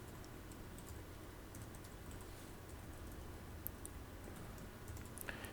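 Very faint, quick typing on a computer keyboard while renaming a folder on a PC, a steady patter of soft key clicks with a few sharper taps and no talk.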